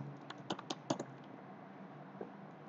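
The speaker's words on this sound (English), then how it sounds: "you type control panel" Someone typing on a computer keyboard: a quick, faint cluster of key clicks, then one last light tap after a pause, recorded quietly with no voices.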